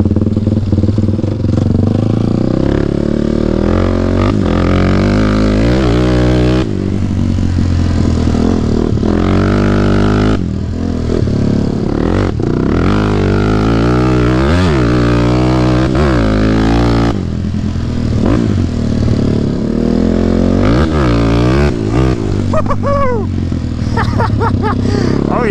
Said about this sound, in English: This exhaust is gnarly though, dude. This is loud.